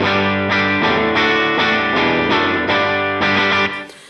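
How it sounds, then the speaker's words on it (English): Electric guitar chords played through a Line 6 Helix with heavy pre-delay reverb ring out in a loud, distorted sequence of about eight evenly spaced strums, each swelling into a washy tail before the last fades out. "I like to use heavy pre-delay when I'm using this, my first reverb."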